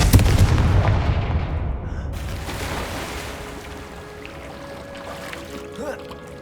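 A Confringo fire spell detonates in Hogwarts Legacy with a heavy, booming explosive blast right at the start. It rolls away into a long, fading rumble with faint game ambience beneath.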